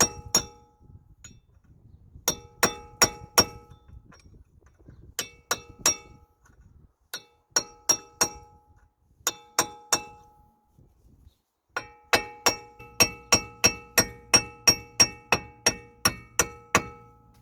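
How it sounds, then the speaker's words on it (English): A hammer strikes a chisel to drive a broken wheel stud out of a Jaguar XF hub, giving sharp metallic clinks in irregular clusters and pauses, then a fast steady run of blows near the end. "just going to remove the broken stud, and for that I'm using a chisel and a hammer"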